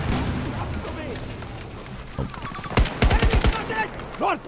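Battlefield 2042 gunfire, a quick burst of sharp, loud rapid shots crackling through a busy game battle, with muffled game noise before and a few scattered reports after.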